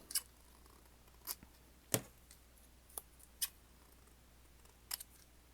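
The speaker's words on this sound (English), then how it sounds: "Look at these giant scissors." Giant scissors make about six sharp, faint snips spaced irregularly over a quiet background.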